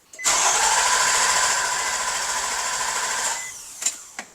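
A Nissan Murano engine cranks steadily for about three seconds with a whirring starter drone, then stops, followed by two brief clicks or knocks; no talk over it.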